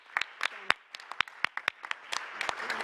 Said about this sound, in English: If you join me in giving a round of applause to Jen.